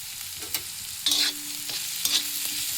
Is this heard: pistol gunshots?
no